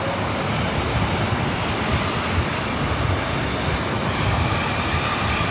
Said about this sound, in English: The Las Vegas Raiders livery coming up from Memphis in that A319.